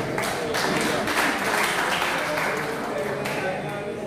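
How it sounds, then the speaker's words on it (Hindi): A crowd at a ghazal and poetry gathering applauds for Nawaz, a loud continuous wash of clapping and crowd noise with voices mixed in, close and steady for the whole stretch. "एक बार नवाज भाई के लिए पुरजोर तालियां बजाते हैं"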